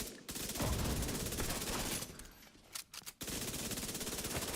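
Sustained rapid automatic gunfire with bursts of explosions from the video game The Division 2, loud and continuous with a brief broken-up lull in the middle before the firing resumes.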